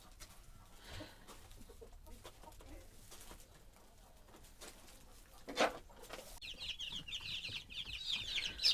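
Backyard flock of chickens and a large rooster, Dominant Master Grey hens among them, clucking in soft, scattered bursts at moderate distance, then a louder, busier stretch of chatter near the end.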